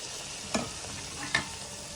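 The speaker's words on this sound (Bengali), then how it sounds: "তো এইভাবে একটা একটা করে দেখো এগুলো ভেজে নেবো" Pieces of gud petha dough deep fry in hot oil with a steady, bubbling sizzle. Two sharp stirring or scraping clatters break through, and no one speaks.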